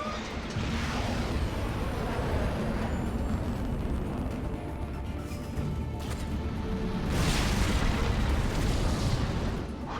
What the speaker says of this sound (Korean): 폭발과 함께 저그의 유일한 감염 구덩이가 날아갔습니다